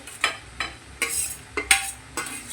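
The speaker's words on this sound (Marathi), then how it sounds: "आता भाजी आणि बटाटा पूर्ण मिक्स करून घ्यायचं।" A spoon scrapes and stirs fenugreek greens and mashed potatoes in a pan, with a few rhythmic strokes and a faint sizzle between them, close and clear and with no voices.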